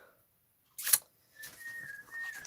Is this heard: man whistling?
yes